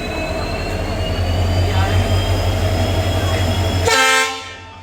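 A WDG4 diesel goods locomotive from the Kumbalam shed hauls a short passenger train, with a loud continuous rumble and rail noise that cuts off sharply near the end as the sound drops away.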